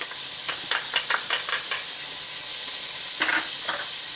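Onions, garlic and spices hitting a hot pot, a bright steady sizzle with a burst of stirring scrapes, close and continuous.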